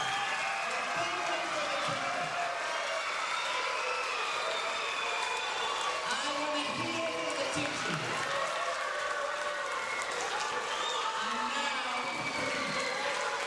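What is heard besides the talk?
round of applause for students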